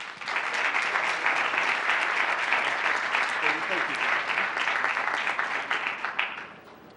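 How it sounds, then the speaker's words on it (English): Sustained applause from an audience at a Gilbert town State of the Town event, steady dense clapping from a full room that holds for several seconds before tapering off near the end. "we give you another big round of applause"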